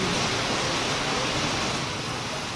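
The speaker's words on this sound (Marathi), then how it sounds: "मुंबईत मुसळधार पाऊस कोसळतोय" Heavy monsoon rain pouring down in Mumbai, a dense, even roar of falling water that stays loud and unbroken throughout, with no voices.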